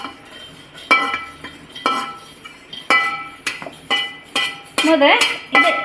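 A mixer grinder jar being swapped out, a series of sharp metallic clanks and clattering knocks arriving in irregular bursts, close by with no talking.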